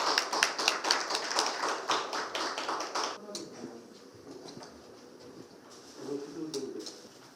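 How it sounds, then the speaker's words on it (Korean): An audience at a policy forum claps to welcome a professor, a dense burst of applause for about three seconds that fades into quiet room tone with brief faint talk later. "박수로 교수님 모시겠습니다"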